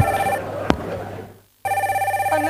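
A telephone rings nearby in a home, an electronic ring pattern that stops for a moment and then starts again, with no talk over it.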